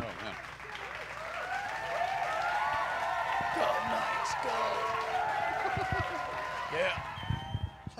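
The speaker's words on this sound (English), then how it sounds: "Super delayed applause." Delayed audience applause at a talk show, a thick crowd clapping sustained over several seconds with some cheering mixed in, mid-distance and fairly loud, while people talk over it.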